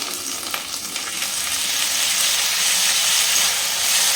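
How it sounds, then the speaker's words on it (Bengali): Ginger, garlic and green chili paste frying in a pan, with a dense continuous sizzle that grows louder, plus a few light stirring taps early on. "এটা একটু ভালোভাবে ভেজে দিতে হবে আদা রসুনের গন্ধটা যেন না ওঠে"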